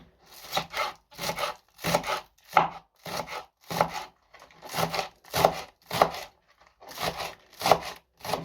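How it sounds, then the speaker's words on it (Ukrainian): A knife chops onion in steady, evenly spaced strokes, about two per second, close and clear with no talking. "поріжу цибульку і вкину у фарш"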